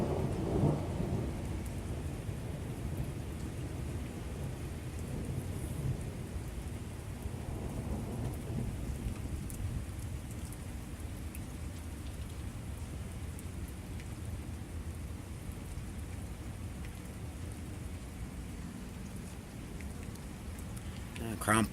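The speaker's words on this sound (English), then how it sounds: "And yes, it's still thundering." Thunder rumbles low beneath steady heavy rain in a thunderstorm, the downpour hissing continuously up close while deeper rolling swells come and go, loudest toward the start.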